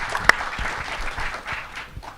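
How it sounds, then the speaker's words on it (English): Audience applause for Comptroller John Liu at an evening tech policy forum for New York City mayoral candidates, a steady wash of many hands clapping with one sharp, loud clap standing out near the start. "Please give him a round of applause."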